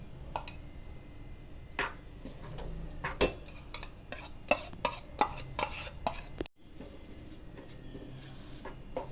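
Spoon scraping and clinking through a bowl as ghee and fresh cream are stirred into rice flour for sweet laddu, with irregular close taps and scrapes throughout and a brief pause near the end.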